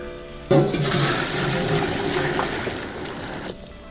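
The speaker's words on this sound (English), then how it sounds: "Pour some broth here," Beef broth pours from a larger pot into another pot, a loud continuous gush of liquid lasting about three seconds, close up, then cutting off.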